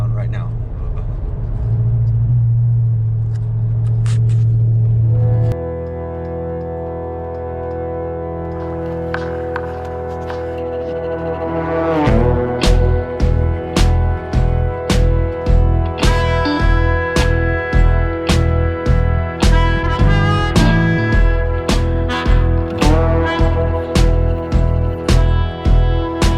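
A Dodge Power Wagon truck on 37-inch tires crawls along a bumpy local truck trail. Its engine drones steadily and loudly up close, then rhythmic thumps and jolts set in as the truck bounces over the rough ground.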